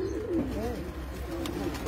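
Pigeons on a rooftop give soft, low rolling coos close by against a steady background hum, with no one speaking.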